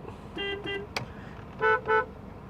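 A Maruti Alto 800's switch-fitted aftermarket horn beeps several times nearby: two short toots, a click, then two louder blasts, with faint background noise.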